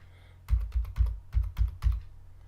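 Seven quick, crisp keystrokes on a computer keyboard enter a customer ID, close and distinct in an uneven burst after a brief quiet moment, with no voice.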